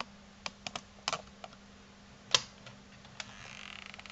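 Keys clicked one at a time on a small plastic Barbie toy learning laptop, giving sparse, irregular tapping with one sharper click, close and fairly quiet over a faint background hum.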